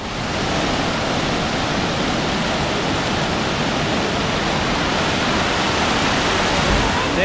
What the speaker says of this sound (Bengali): পিছনে ঝর্ণাটা দেখুন